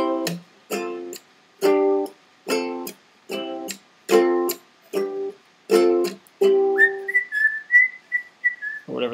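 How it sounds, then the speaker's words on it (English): A whistled melody of crisp, separate notes in a steady rhythm, ending on a long, wavering higher note, with no talking. "Or whatever this whistling is, I don't know."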